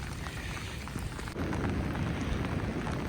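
Steady rain pattering in mountain border country in Arunachal Pradesh, growing heavier and denser about halfway through, with a constant wash of falling drops and no voices.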